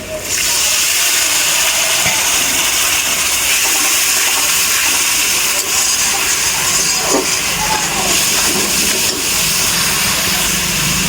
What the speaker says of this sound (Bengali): এবার এতে আমি সামান্য একটু জল দিয়ে দেবো